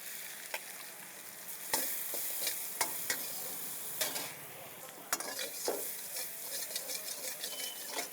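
Finely chopped large onion fries in oil with fennel seeds, dried red chillies and curry leaves for a coconut milk chicken gravy, giving a steady close sizzle broken by scraping spoon stirs and light pan clinks, with no talking.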